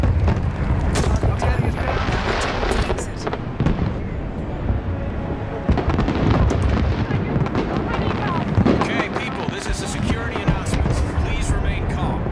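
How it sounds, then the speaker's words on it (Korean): Fireworks go off in Hitman (2016): repeated loud bangs and crackling bursts follow one another for several seconds, with a voice talking over them. "자, 폭죽을 발사합니다"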